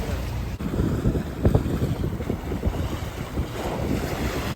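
Sailboat motoring into a sheltered Arctic anchorage in Svalbard in light wind: a continuous low engine and hull rumble under gusty wind buffeting on the microphone and water wash, fairly loud and unbroken.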